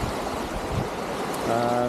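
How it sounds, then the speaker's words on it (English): Lake waves on lower Georgian Bay roll in steadily under a north headwind, a continuous close wash of water with broadband rushing that never lets up. "So you can see all the waves are coming in."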